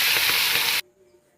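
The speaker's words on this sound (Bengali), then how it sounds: "তো মাছটা এখন ভাজা হচ্ছে" Dried fish frying in oil on a clay stove in a village kitchen, a loud, close, dense sizzling hiss that cuts off abruptly into near silence.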